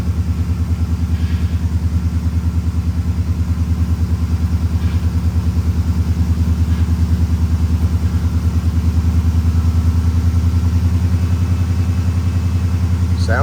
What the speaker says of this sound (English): Idling back down, starting to anyway.